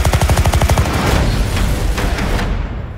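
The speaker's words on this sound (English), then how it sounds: "They've opened fire on journalists." Bursts of gunfire from a war film: a fast, rhythmic volley of close shots gives way to heavier, echoing blasts and scattered cracks that fade toward the end.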